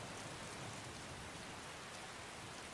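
Steady rain in the video game Skyrim falls as a faint, even hiss of drops with no breaks or voices, a uniform wash of noise across the whole short stretch.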